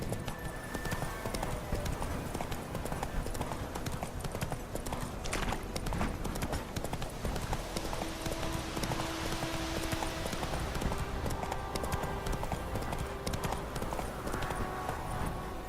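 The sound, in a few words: horse Roach galloping in video game The Witcher 3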